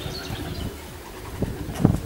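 Soft pigeon coos rise near the end of the clip over a low, steady background rumble.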